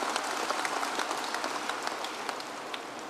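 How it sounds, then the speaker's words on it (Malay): Applause from the crowd at an UMNO branch annual meeting in Selangor, a dense, steady patter of many hands clapping together without a break, fairly distant and even in level throughout. "kita berikan tepukan bergemuruh"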